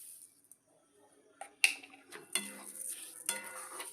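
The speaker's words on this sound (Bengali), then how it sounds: "চিনিটা দিয়ে ভালোভাবে নাড়বেন।" Semolina and sugar are stirred in a pan for a sweet dish: a few scraping, swishing strokes with light clinks of the spoon against metal, close and fairly quiet with gaps of near silence between.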